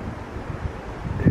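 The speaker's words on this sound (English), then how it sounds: "Bit windy, little bit cold" Wind blows steadily outdoors on a cold, windy day, a low buffeting rush across the microphone with a stronger gust near the end.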